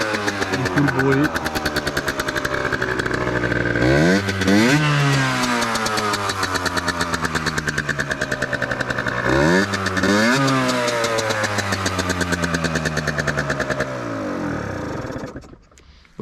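A Yamaha DT 50cc two-stroke motorcycle with an aftermarket exhaust runs loud and close, its buzzy note climbing in two quick throttle blips over a steady idle before cutting out near the end.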